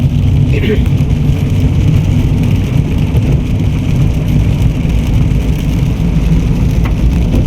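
Rain drums steadily on a car stuck in traffic on a wet road with roadworks. The patter stays close and constant, with a dull low rumble underneath it.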